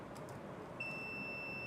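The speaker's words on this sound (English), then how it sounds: "Now hopefully this will beep" A multimeter in continuity mode beeps while testing a Polaroid SLR690 camera's mirror switch: a steady, thin electronic tone starts partway through and holds without a break over a low background hiss.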